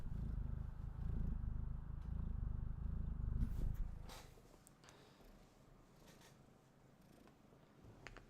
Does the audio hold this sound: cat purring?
yes